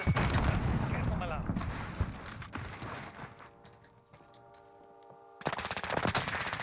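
Automatic weapon fire in the Modern Warfare video game, with loud rapid bursts and single shots close by, a pause filled by a tonal hum, then another heavy volley near the end.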